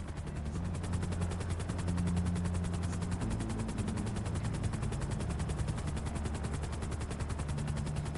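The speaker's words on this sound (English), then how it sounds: "Almost there. Get ready to exit the helicopter." A helicopter flies in a PlayStation 5 video game, its rotor beating in a fast, steady thudding pulse with a droning engine underneath, continuous and fairly loud throughout.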